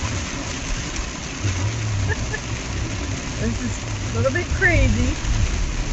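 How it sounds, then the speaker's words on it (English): Heavy rain pours down steadily with a dense hiss, while an engine idles underneath and a person speaks over it. "the rain's starting to come down a lot harder again."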